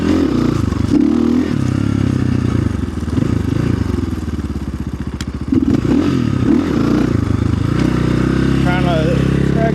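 A Chinese dual-sport dirt bike engine revs loudly and close up during wheelie practice, with a steady drone, a sharp rise in the middle and clattering knocks over rough ground.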